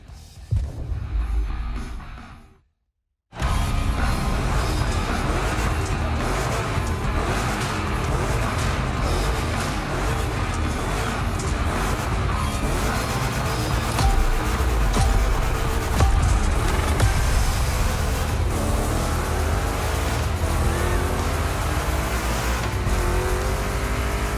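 Two Chevy big-block cars roar through a gymkhana event in The Crew Motorfest, engines revving hard and continuously with tire squeal and skids, loud and close after a brief silent gap near the start.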